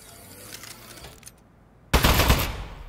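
An Aperture Science Turret in the game Aperture Desk Job opens fire after a near-silent pause, unleashing a loud, close, rapid sustained burst of gunfire.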